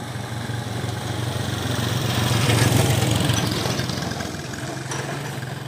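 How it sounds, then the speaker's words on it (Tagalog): A motorcycle engine idles steadily on a rural road, with a constant low rumble that rises slightly mid-way and holds alone throughout. "Hintay lang natin yung motor"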